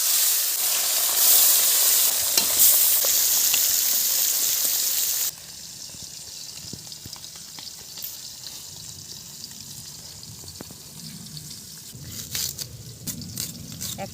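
Latha fish dropped into hot oil, a loud close hiss and sizzle that drops sharply partway through and settles into quieter steady frying with faint pops.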